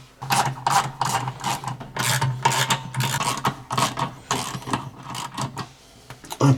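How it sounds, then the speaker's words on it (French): Wrench loosening the bolts on the flange of an electric water heater tank, heard as repeated rasping, grinding strokes in an uneven rhythm, close and fairly loud. "je vais défaire les boulons"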